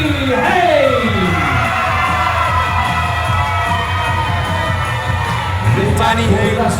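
A wrestling crowd at a WrestleForce live show in Shoeburyness roars and cheers for Danny Haines, loud and sustained with whoops, yells and children shouting, the noise swelling again near the end.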